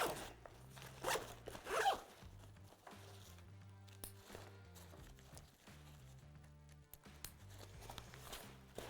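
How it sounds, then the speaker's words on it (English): A zipper on a USWE Patriot 15L hydration pack is pulled closed in several quick, close rasping strokes, followed by quieter handling and rustling of the pack. "So I'll zip everything back up."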